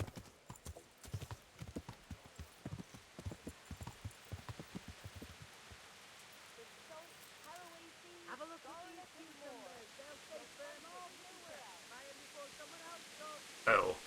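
Horse hooves in the video game Kingdom Come: Deliverance, a run of clear clip-clop steps at a walking pace fading out, followed by someone talking over soft background ambience and a brief loud knock at the end.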